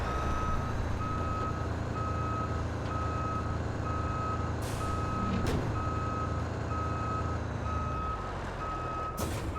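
A crane truck in the RoadCraft game, its engine idling steadily beneath a regular series of loud, evenly spaced reversing beeps, with a couple of sharp hissing bursts from air brakes.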